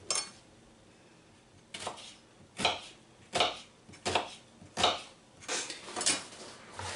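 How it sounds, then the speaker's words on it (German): An onion is chopped with a knife on a board in a home kitchen, about eight crisp, evenly spaced strokes landing roughly every three-quarters of a second, close and distinct with no speech. "So, die Zwiebel ist geschnitten und kommt jetzt schon mal gleich in die Pfanne rein."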